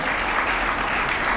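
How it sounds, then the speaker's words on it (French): An audience applauds steadily at an evening event at the Hilton Hotel in Kinshasa as a woman walks onstage, a brief, even wash of clapping with no voices on top. "Gwen Madiba, sous vos applaudissements, s'il vous plaît."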